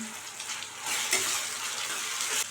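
Chopped tomato and onion sizzle and fry in a pan with curry leaves and salt for a Tamil okra curry, a steady close hiss with brief stirring scrapes.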